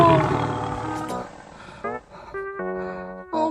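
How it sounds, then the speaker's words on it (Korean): An Amur (Baekdu) tiger gives a deep, resonant roar up close at the start, then fades as voices and other tonal sounds take over. "와, 진짜 호랑이 목소리 듣는 거 처음이에요."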